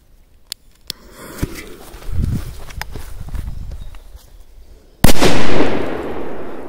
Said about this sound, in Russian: П-2000 быстро взрывается, поэтому отойдем побыстрее